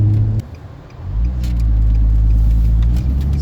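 A manual-transmission Japanese car pulling away smoothly without stalling, a low steady engine rumble that dips briefly and then builds as it drives off, close and continuous, with faint rattles in the background.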